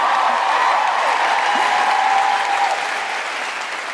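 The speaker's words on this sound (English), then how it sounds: "feel free to cheer and clap." Audience at the Royal Albert Hall clapping and cheering, a loud sustained roar of applause that eases slightly toward the end.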